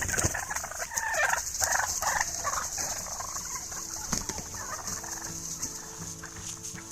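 A flock of wild turkey toms sorts out dominance, giving several loud, rattling gobbles along with other calls and overlapping bird vocalisations at moderate distance.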